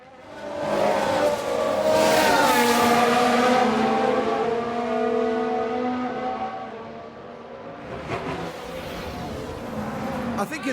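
Aston Martin Formula 1 race car engine in the F1 Manager 22 video game, a loud high revving whine that sweeps in pitch and fades, then another car rises near the end.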